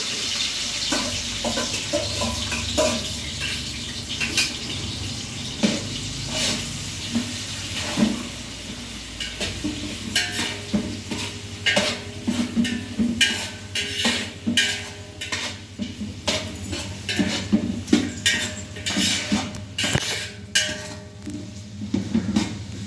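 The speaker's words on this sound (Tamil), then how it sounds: "அடுத்தது நான் வந்து வெங்காயம் போட போகிறேன்" Sliced onions for mutton biryani tossed and stirred in a pan, with a steady low hiss beneath repeated scraping and clinking of a metal spoon against the pan, busy and close without any talking.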